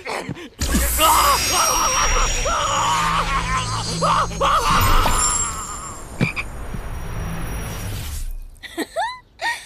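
A toad demon croaks loudly during a fight scene in a Chinese fantasy costume drama. Harsh croaks sit amid dense, crashing effects, and the scene ends with short chirping sweeps.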